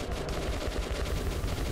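Rapid continuous firing from a fire-launcher weapon in the video game Metro, a dense, loud, unbroken roar of fast repeated bursts.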